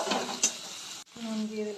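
Chopped onion hits hot oil in a pan for a spinach and prawn curry, with a close, steady sizzle, a spatula stirring and scraping, and a brief clink of metal.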